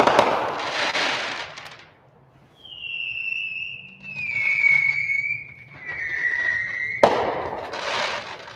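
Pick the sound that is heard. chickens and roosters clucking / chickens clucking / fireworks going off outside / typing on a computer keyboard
fireworks going off outside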